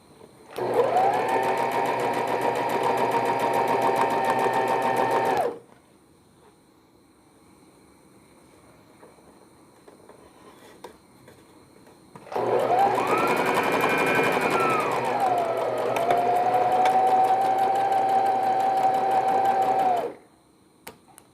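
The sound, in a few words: sewing machine stitching a newborn vest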